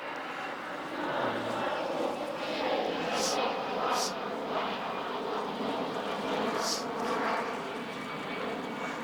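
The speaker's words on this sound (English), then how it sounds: "just wait till the aeroplane is gone" A propeller aeroplane passes overhead in a garden, its steady droning roar holding level and fairly loud throughout, with a few brief clicks and rustles nearby.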